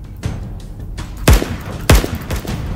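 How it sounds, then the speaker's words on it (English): Rapid gunfire in a Roblox pistols 1v1 match, a few loud, punchy shots with booming low ends, two especially strong bursts close together amid scattered smaller pops. "You just unleashed a machine gun on me."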